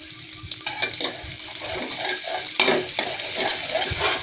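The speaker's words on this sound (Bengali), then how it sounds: "এই যে ঢেলে দেওয়া হলো চিংড়িকে ভালো করে নেড়ে চেড়ে তেলের সাথে মিশিয়ে" Shrimp frying in hot oil with chopped onion while being stirred, a loud close sizzle with repeated spatula scrapes and small clinks throughout.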